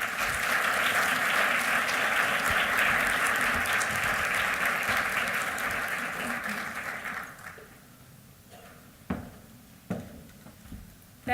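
Audience applause welcoming speaker Virginia Heffernan at a conference talk, sustained dense clapping that fades out after several seconds, leaving a few scattered claps and knocks in a quiet room.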